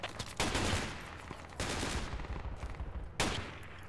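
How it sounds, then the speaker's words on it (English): Machine gun burst fire in Project Reality comes in three sharp, loud bursts separated by brief lulls, with sporadic shots and no talking. "MG firing at us from south plus two."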